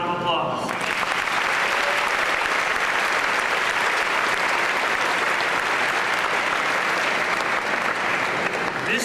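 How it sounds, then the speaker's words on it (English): An audience at a school moving-up ceremony gives sustained, dense applause for about nine seconds, with a brief bit of speech at the very start. "join me in thanking all the adults that support you with a round of applause"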